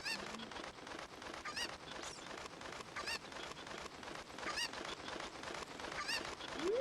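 Cucco chickens clucking and squawking in Ocarina of Time Randomizer, repeated short bird calls popping up at intervals over a busy game soundtrack, fairly faint overall.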